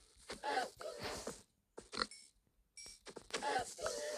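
Pigs in the Minecraft video game grunt and oink in short bursts separated by brief silent gaps, a handful of calls close and clear, at moderate volume.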